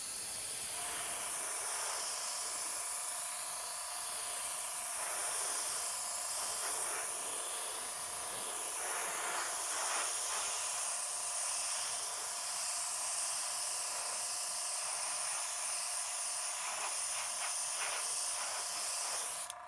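Tamiya chrome silver acrylic paint hisses from an airbrush onto a model BSG Viper ship, a continuous steady spray with slight pulses, close and alone throughout.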